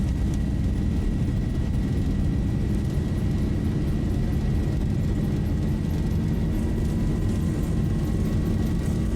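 A Boeing 737-700 rolls down runway 05L at Manchester in the Zibo 737 flight simulator, its engines sustaining a loud, steady low roar with a thin whine on top. No one speaks.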